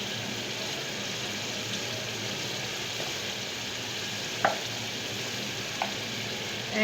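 Salt and turmeric fry in a pan for a potato curry, giving a steady, even sizzle with a couple of faint clinks of a utensil.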